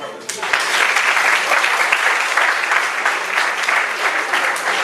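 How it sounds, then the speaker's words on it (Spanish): An audience at a poetry and philosophy recital breaks into applause, a sudden burst of many clapping hands that holds loud and steady for several seconds, with some voices underneath. "Bien, un aplauso."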